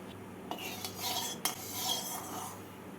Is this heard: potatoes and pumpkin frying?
yes